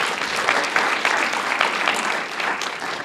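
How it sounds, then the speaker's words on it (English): An audience at a live science demonstration claps together in a dense, steady round of applause, close and full throughout with no voices standing out. "a very big round of applause."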